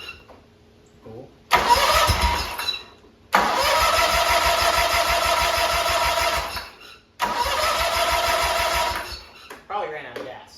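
Big riding mower engine cranking and catching in three loud bursts, running steadily between brief stops, with a person talking briefly.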